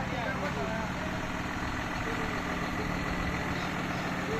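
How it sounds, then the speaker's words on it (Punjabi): A John Deere tractor engine runs with a steady, continuous low rumble heard at moderate distance, mixed with people talking throughout. "ਇਹ ਜੌਂਡੀਅਰ ਆ ਗਿਆ ਜੌਂਡੀਅਰ ਆ ਗਿਆ"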